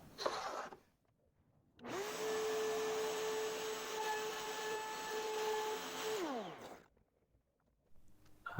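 A drill bores through a bundle of colored pencils held against a support, a steady whining motor tone with grinding that spins up, holds for about four seconds and winds down, with quiet gaps either side.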